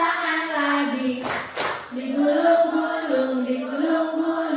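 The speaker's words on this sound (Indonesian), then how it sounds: "tepuk tangan lagi" Hands clap a couple of times in quick succession during a classroom song, the brief claps standing out against steady group singing that continues throughout.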